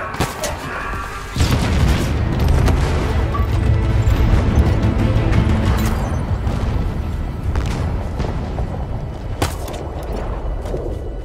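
A heavy booming blast from a gun generator being destroyed in Halo Infinite, with a sudden loud crash about a second in that rolls into sustained rumbling debris and scattered secondary bangs.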